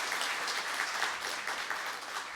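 Audience applause at a university president's farewell ceremony in a hall, an even, continuous wash of clapping from many people, moderately loud and unbroken.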